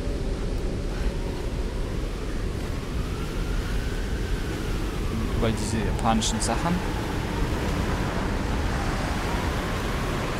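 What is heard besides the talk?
wind blowing in Tomb Raider video game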